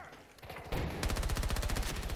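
Rapid automatic gunfire in the online multiplayer shooter Battlefield 2042, starting as a muffled low rumble, then bursting into a loud, sustained stream of evenly spaced shots after about a second.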